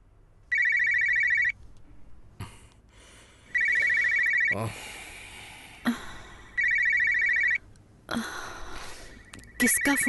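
A telephone bell rings in four loud, repeated bursts with pauses between, near and clear, while people talk in the gaps and under the last rings.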